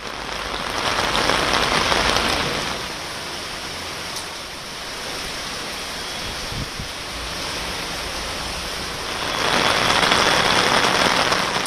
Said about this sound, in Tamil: திருச்சியின் பல்வேறு பகுதிகளில் கனமழை பெய்து வருகிறது